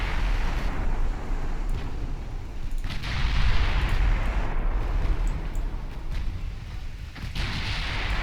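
Warship guns fire repeatedly in the naval battle game Ultimate Admiral Dreadnoughts, heavy booming blasts layered over a continuous loud roar of sea and battle noise, several reports spaced a second or two apart.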